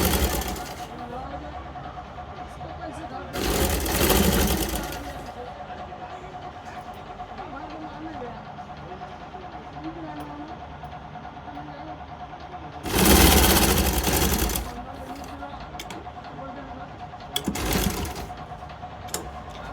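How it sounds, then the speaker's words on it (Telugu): A sewing machine stitches a kaja patti strip, running in a steady mechanical hum with louder bursts of fast stitching at intervals while a person talks over it. "ఫ్రెండ్స్ కాజా పట్టి చూడండి ఎలా స్టిచ్చింగ్ చేస్తున్నారు."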